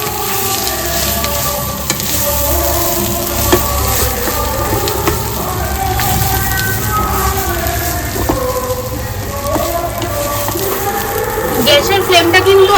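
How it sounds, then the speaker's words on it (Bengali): Boiled potato being mixed with spice masala in a pan over low heat while making Bengali alur chop, a steady soft sizzle and scraping stir running throughout, with a voice talking over it. "এরপর আমি আলুর সাথে মশলাটা ভালো করে মিক্স করে নেবো"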